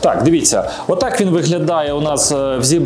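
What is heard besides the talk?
None of the usual background noises is heard.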